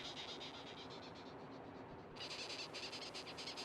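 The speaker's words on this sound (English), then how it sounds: "Her squeaking noise sounds a little like the creaking of these ancient trees." A female velvet ant, a wingless parasitic wasp, squeaks in a forest of ancient trees, giving faint rapid pulsing chirps in repeated bursts over a soft outdoor hiss.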